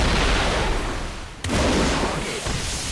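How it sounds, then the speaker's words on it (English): A loud, rumbling explosion in War Thunder, with booming noise filling the soundscape, a sharp crack near the middle and the roar continuing after it. "big explosion"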